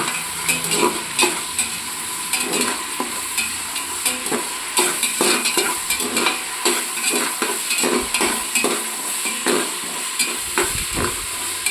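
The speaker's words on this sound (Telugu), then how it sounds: "ఆవాలు, జీడిపప్పు, సోంపు, పచ్చిమిరపకాయ వేస్తున్నా." Mustard seeds, cashews, fennel and green chillies fry in hot oil with a continuous sizzle, broken by frequent scraping stirs and crackles in an uneven rhythm, close and fairly loud with no voices.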